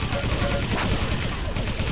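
Rapid weapon fire and explosions from the first-person shooter Quake Live in a team deathmatch, dense continuous bursts with a commentator's voice talking over the action.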